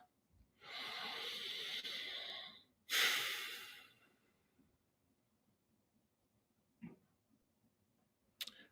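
Deep, slow breathing during a guided meditation: a long inhale and a strong exhale close to the microphone, followed by quiet stillness with a couple of faint clicks.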